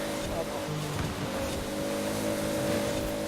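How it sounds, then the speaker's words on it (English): Toyota Supra RZ engine in the Forza Horizon 4 racing game, a steady droning engine note with a held pitch and faint shifts, loud and continuous, with a voice talking over it. "Oh wow, the engine noise."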